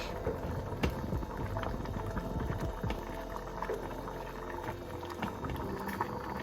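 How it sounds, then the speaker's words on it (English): A pot of water bubbling at a steady rolling boil, with constant close gurgling and small pops and no voices. "Make sure that it's boiling well and nothing is stuck."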